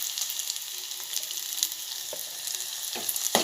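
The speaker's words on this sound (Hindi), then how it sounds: "थोड़ी उसकी बू जाने तक हम उसे तेल में फ्राई करेंगे" Dried fish frying in oil gives a close, steady hiss and crackle broken by a few soft stirring knocks near the end, with no voices.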